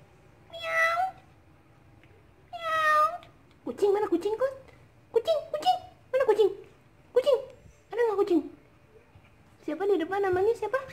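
A cat meows repeatedly indoors, two clear drawn-out cries followed by a string of shorter, closer meows, with people talking nearby between and around the calls.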